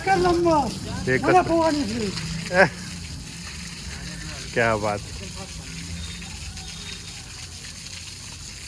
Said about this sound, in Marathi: जोरदार पाणी आलेलं आहे